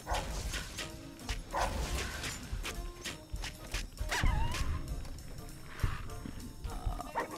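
Dogs in the video game Fallout New Vegas bark and snarl in loud, scattered bursts over game sounds and footsteps as they attack.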